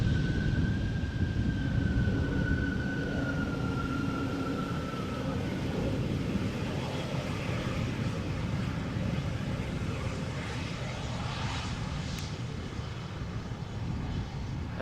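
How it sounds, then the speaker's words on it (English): A Pegasus Airbus A321neo arriving from Istanbul at Amsterdam Schiphol, heard as a loud, steady, broad jet roar that holds throughout with a faint whine fading early on. "what is it, A321neo? Arriving from Istanbul."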